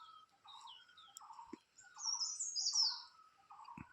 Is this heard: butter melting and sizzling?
no